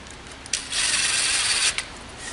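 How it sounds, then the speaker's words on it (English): A screw being driven into a wooden bluebird house board, a close grinding, rasping whir lasting about a second between brief clicks, with no talking. "I'm going to start my screw about 1 inch from the edge so I don't split it out."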